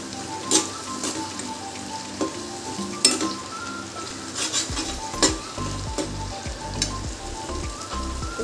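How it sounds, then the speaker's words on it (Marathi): Red chili powder, homemade masala and paneer masala spices fry in hot oil, giving a steady close sizzle broken by repeated scrapes and clinks of a spoon stirring against the pan. "तर आपण आता हा मसाले चांगले फ्राय करून घेऊ"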